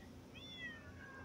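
A single faint cat meow rises and falls over about a second, quiet against a low background hum, with no voices over it.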